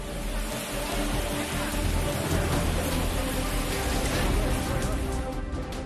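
Heavy monsoon rain falls steadily in a hilly region, a dense, continuous roar of downpour that stays loud and unbroken throughout.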